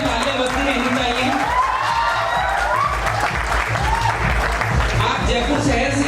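A hall audience at a state-level nurses and teachers felicitation ceremony gives sustained applause to welcome MP Ramcharan Bohra, dense clapping throughout with a voice speaking over it.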